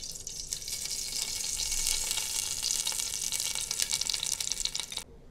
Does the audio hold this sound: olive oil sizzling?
yes